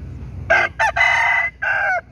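A rooster crows at a cockfighting setup where gamecocks wait ready, one loud close crow broken into several bursts with a drawn-out tail and a low background murmur.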